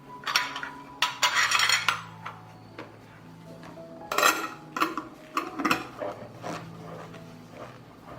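Hot glass canning jars lifted out of a heated oven, with repeated sharp clinks and clatters of glass and metal close by, in several bursts separated by quieter handling sounds.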